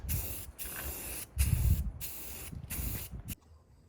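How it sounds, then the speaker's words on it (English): A spray paint can sprays outdoors on a windy day while a custom roof rack for a Willys Jeep CJ5 is painted, giving five close, loud hissing bursts separated by brief gaps, and then stopping. "Nothing like trying to spray paint on a windy day."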